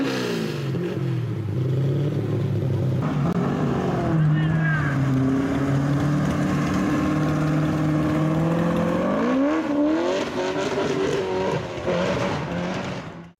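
Chevrolet L88 427 big block V8 revving loudly and steadily, pitch climbing and falling through several sweeps, close and sustained with no talk over it.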